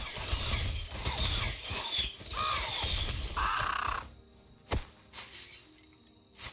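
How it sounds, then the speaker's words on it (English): A raven in Ashes of Creation caws several times in the open world, harsh, rasping calls spaced irregularly over faint ambient game sound, followed by quieter rustles and a sharp click. "Even better, there's a raven."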